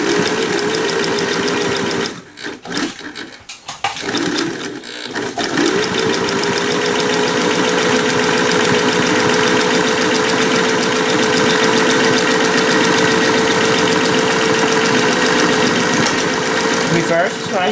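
A SINGER Touch and Sew 758 sewing machine runs close and loud in a steady mechanical hum, with a short break and stutter near the start before stitching continues evenly.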